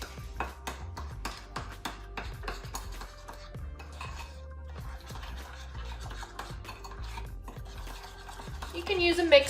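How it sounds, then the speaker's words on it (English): Hand stirring of an egg into creamed butter and sugar for sweet potato muffins, a steady rhythmic scraping and rubbing of a spoon against a bowl, close and moderately loud, with a few clinks near the end. "I'm just going to stir this up."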